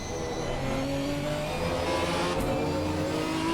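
GT4 race car in a racing game at Monza, engine coasting off throttle before braking, a steady droning hum with level tones held close and constant throughout, no talk.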